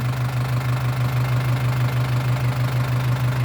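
An Isuzu NKR 110 hp truck engine idles steadily after starting, a loud close, even diesel rumble with a faint knocking character and no voices over it.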